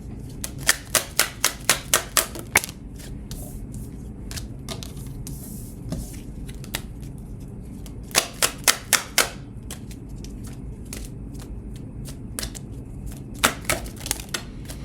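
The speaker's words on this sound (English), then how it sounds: "we're going to shuffle this one back in" Quick crisp riffles of tarot cards being shuffled come in short bursts separated by pauses, close up in an otherwise quiet room.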